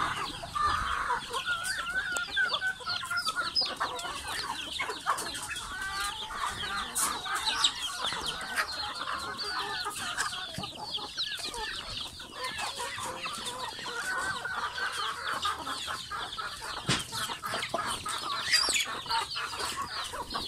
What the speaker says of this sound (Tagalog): Open field lang ang mga chicken,